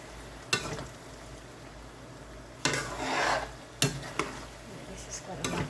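Food being stirred while it cooks in a pan, with several distinct scraping strokes over a soft background sizzle, close and moderately loud.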